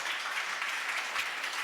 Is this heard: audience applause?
yes